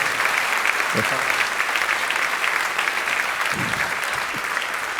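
Steady applause from an audience at a church congress fills the room, continuous clapping at an even level with a few louder claps poking through.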